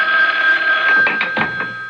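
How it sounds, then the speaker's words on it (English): A telephone rings as a radio drama sound effect, its bright electric bell trilling loud and close in a short continuous burst that fades slightly toward the end. "As I reached my apartment, the phone was ringing."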